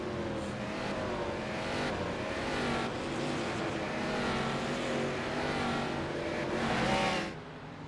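Race cars circulate on the track at Lime Rock behind a pace car, engines droning loud and steady as they run in a pack, fading slightly toward the end.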